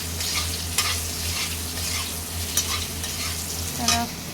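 Food is stirred and fried in a pan on a home stove, giving a steady close sizzle broken by a few sharp scraping strokes of the spoon, with no talking.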